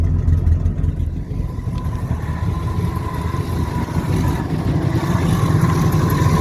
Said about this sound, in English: So there's that muffler that's blowed out.